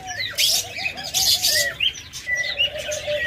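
A group of pet lovebird pairs in cages chirps continuously, with rapid rising and falling tweets and shrill bursts close by, overlapping in a busy flock chatter.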